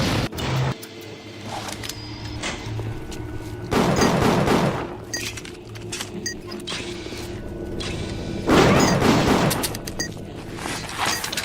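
Grenade blasts in the video game BioShock Infinite: two loud, rumbling explosion bursts several seconds apart, each breaking through a steady backdrop of in-game ambience and mechanical noise.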